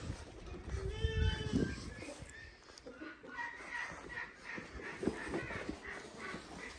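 Goats on a farm bleat a few times up close, with some clucking poultry mixed in and faint background activity.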